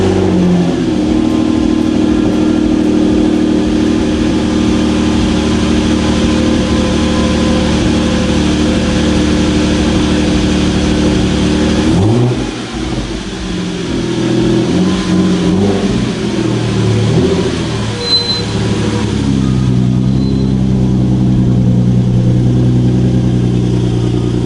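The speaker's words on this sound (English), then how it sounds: "I'm about to go ahead and start the car up and see how she sounds" A Hyundai Genesis Coupe fitted with an Injen short ram intake sounds loud and steady, moving from a droning idle into rising revs, with a brief dip near the middle before the engine note swells again.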